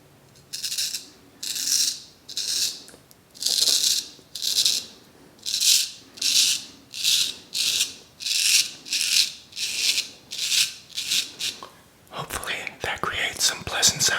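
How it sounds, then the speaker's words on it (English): A straight razor scrapes across skin in about fifteen slow, rhythmic, raspy strokes while shaving, close and soft, ending in a brief burst of rustling. "I'll shave the right side with a straight razor."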